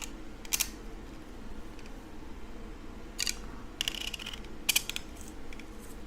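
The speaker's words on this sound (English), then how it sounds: "I don't necessarily enjoy screwing in these screws." Screws are driven into the frame of a Prusa MK4 3D printer kit, heard as a few short, close, crisp metallic ratcheting bursts over a quiet room hum.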